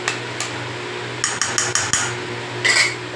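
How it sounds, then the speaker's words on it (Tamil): A metal plate set as a lid over a cooking pan of drumstick and onion thokku, giving a cluster of light clinking, clattering knocks followed by a brighter ringing clatter, close against a steady kitchen hum. "இப்போ நம்ம ஒரு தட்டு போட்டு மூடி வச்சிடலாம்."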